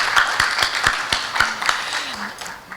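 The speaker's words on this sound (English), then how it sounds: "Let's give them another round of applause this afternoon." An audience at a steelpan prize-giving event gives a round of applause, dense clapping with a few sharper individual claps standing out close by, sustained across the moment with a faint voice underneath.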